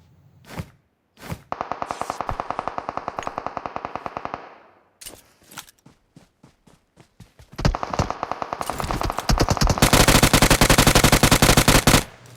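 Automatic weapon fire in PUBG on the Erangal map, with rapid close bursts of shots, short pauses and single cracks, then a longer, louder sustained burst near the end, no talk.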